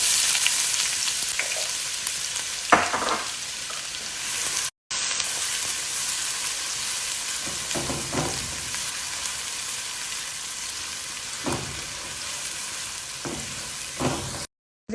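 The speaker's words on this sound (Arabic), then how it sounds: "ذوبت الزبدة بالزيت، على طول انزل الحين بصل مفروم ناعم" Finely chopped onion fries in melted butter and oil, a continuous close hiss of sizzling with intermittent scraping strokes of stirring and a couple of brief cut-outs.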